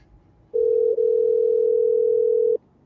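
A telephone rings on an outgoing call as a single long, steady electronic tone of about two seconds, loud and clear through the line with no talking over it.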